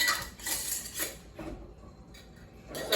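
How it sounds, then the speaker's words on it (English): Lids pressed onto containers of cabbage soup, a few close clicks and plasticky knocks in quick succession, with short pauses between. "I'm going to get the lids on these"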